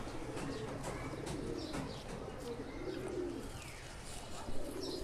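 A pigeon coos softly in low, rolling phrases among other birds in a loft, with faint chirps and a quiet voice in the background.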